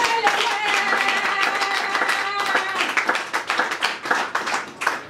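An assembled audience claps in response to a call to applaud, the clapping dense and lively at first, then thinning into uneven bursts, with voices audible in the room.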